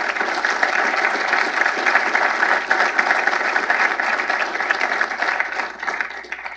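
Sustained applause from a lecture audience, steady and dense throughout with no pauses, filling the hall without any talk over it.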